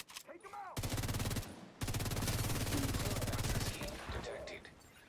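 Sustained rapid-fire turret bursts in The Division 2 on PC, two long mechanical volleys separated by a brief pause, loud and close, with a muffled voice and game sounds around the edges.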